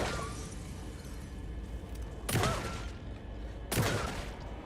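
Two gunshots go off in the video game Alan Wake 2, sharp punchy bursts a second and a half apart over a steady background rumble, close and loud.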